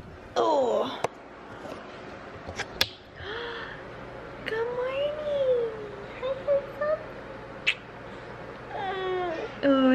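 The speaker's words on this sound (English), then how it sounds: "Oh, is it your kitty?" A pet cat lets out a few short meows close by, mixed with clicks, a gasp and murmured speech in a quiet room.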